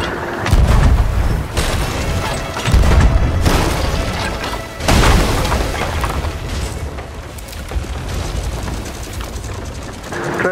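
Ship battle in a video game: deep booming cannon fire, loud and close, with several heavy blasts and long rumbling tails over dense battle noise and voices.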